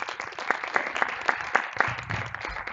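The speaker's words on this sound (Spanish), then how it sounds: "¡Aplausos!" Audience at a women-in-data professional talk clapping to welcome a speaker, with a steady run of evenly spaced claps at moderate volume in a quiet room.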